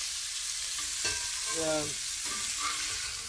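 Sweet potatoes sizzle steadily in a hot frying pan while a utensil turns them, adding a few brief scraping and clinking sounds over the constant frying hiss.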